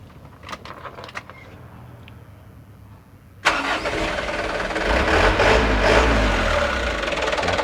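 A car engine cranks and catches after some quiet handling noises, then settles into a steady, loud idle that stays close and continuous, with no talk over it.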